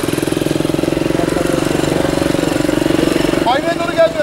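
Motorcycle engine running steadily with a rhythmic, pulsing tone during closed-course riding-skills training, revving slightly near the end while an instructor talks over it.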